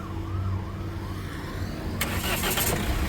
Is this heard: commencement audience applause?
no